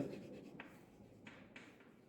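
A name is written on a classroom board during a biology lesson, a few faint, brief marker strokes squeaking and tapping against a quiet room with no talking.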